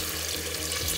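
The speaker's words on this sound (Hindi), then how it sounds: "तीन ग्लास पानी डाल दिए।" Water pours steadily into a pot of browned mutton kofta being made into gravy, a continuous close hiss and splash with no voices.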